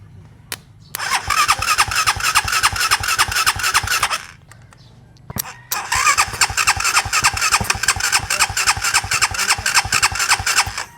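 A small engine fires up once its spark has been checked. It catches and runs with a rapid, even putter for a few seconds, cuts out briefly, then restarts and keeps running loud and close.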